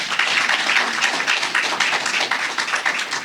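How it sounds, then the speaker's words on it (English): Crowd at a public forum on technical and vocational education in Kumasi clapping for themselves, dense and steady applause from many hands, fairly close and continuous, with no speech over it. "Clap for yourselves."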